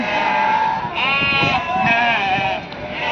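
Sheep bleating at the Mudhol sheep market, several loud wavering cries from close by, one after another, over a busy crowd murmur.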